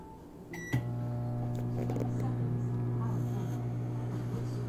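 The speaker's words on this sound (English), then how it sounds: "microwave for 20 seconds." An Amazon Basics Alexa-powered microwave oven reheating mulled wine: a short beep, then a steady, close electric hum that runs to the end, with light clatter and a voice faintly underneath.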